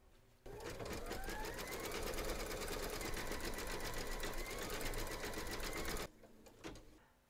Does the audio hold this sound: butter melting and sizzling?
no